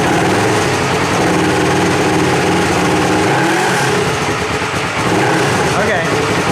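Polaris RZR side-by-side engine with a home-welded exhaust, running steadily and loud close by with a broad rough drone, under the throttle, while people talk over it.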